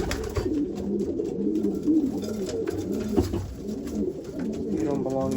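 Racing pigeons in a loft coo steadily and close by, a dense overlapping chorus of soft throaty calls that keeps going throughout.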